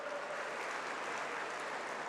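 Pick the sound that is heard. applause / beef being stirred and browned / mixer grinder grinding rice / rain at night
applause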